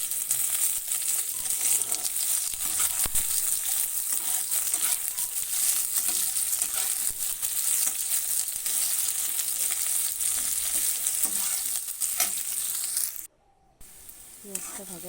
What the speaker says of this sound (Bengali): পেঁয়াজগুলো দিয়ে দিলাম